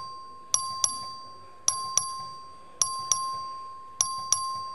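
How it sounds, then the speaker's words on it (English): The clerk rings the voting bell in the Texas House chamber, a bright electronic chime that sounds in four paired dings at steady intervals, each ringing out and decaying, with no talking. "The clerk will ring the bell."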